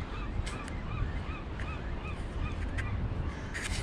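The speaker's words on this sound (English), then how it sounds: "Birds are nesting up on top" Several birds nesting high on a rocky outcrop call out in short, honking, goose-like and crow-like cries, repeated irregularly over a steady outdoor background, moderately close.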